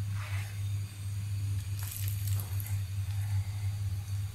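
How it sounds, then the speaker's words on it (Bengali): A slice of bread pressed and turned in beaten egg gives soft, wet squishing that comes and goes over a steady low hum, with a few brief brighter squelches in the middle. "ডিমের মধ্যে পাউরুটিটা দিয়ে একটু মিক্সড করে নিচ্ছি।"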